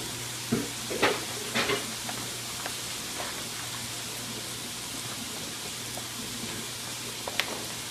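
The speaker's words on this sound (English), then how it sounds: "I'm just going to stir this all in until this is well incorporated" Ingredients for a bean and rice dish being stirred in a pan, a few soft scrapes and knocks over a quiet, steady sizzle and low hum, close and fairly faint, without voices.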